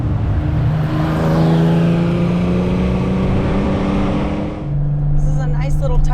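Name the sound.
Porsche 911 engine driving on mountain road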